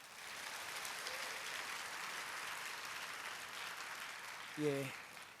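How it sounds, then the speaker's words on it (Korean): A church congregation claps for a departing mission team. The applause is faint and sustained, and a brief tonal blip is heard near the end. "다시 한번 우리 아우니치를 떠나는 DMT 6기를 위해서 큰 박수 부탁드립니다"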